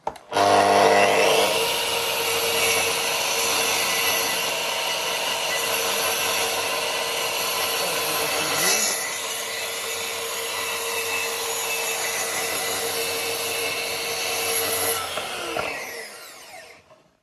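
A Makita SP6000J plunge saw cuts steadily for about fifteen seconds, a loud continuous whining drone with a slight dip in pitch partway through, then winds down at the end with no talking.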